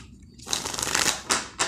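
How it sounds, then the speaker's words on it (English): Tarot cards being shuffled: after a brief quiet moment comes a crisp riffling burst, then two short flicks of the deck, close and clear with no talk. "Give me just a moment to shuffle"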